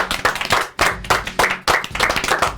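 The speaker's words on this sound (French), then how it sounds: "Applaudissements." A studio audience bursts into applause at the opening of a French television show, with dense clapping that swells in repeated waves and stays close and loud throughout.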